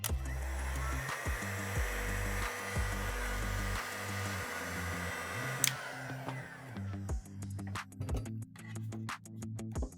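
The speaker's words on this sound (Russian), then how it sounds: "Берем фен." A hair dryer blows with a steady whirring hum while drying Venetian stucco plaster on a wall, its pitch shifting as it runs, followed by scraping and clicking near the end.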